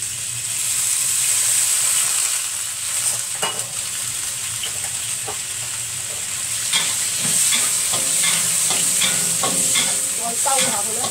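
Squid stir-fried in a wok over high heat gives a continuous loud sizzle, with scraping and clattering from the tossing spatula that grows more frequent toward the end.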